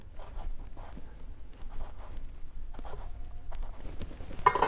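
A knife scores an aubergine on a cutting board, short rhythmic scraping strokes close by without cutting through, with a louder scrape at the end.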